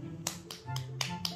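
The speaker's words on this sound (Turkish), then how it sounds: "Aferin, alkış sana." Five crisp, evenly spaced hand claps ring out close by, cheering a baby, with no talking over them.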